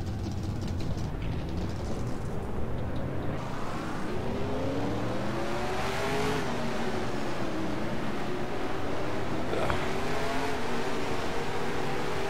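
Stock car engines in the NASCAR Racing 2003 (NR2003) sim at Daytona, a steady loud drone of several cars with pitches rising and falling as they pass one another.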